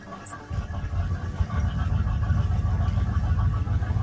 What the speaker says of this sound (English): That's the throttle working. You hear that?